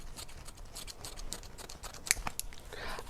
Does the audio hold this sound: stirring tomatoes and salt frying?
no